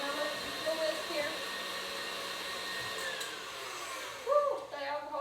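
An electric mixer whisks bubble frosting for bath bombs, giving a steady, fairly quiet whirring hum throughout with faint tonal whine. Near the end, a brief voice cuts in over it.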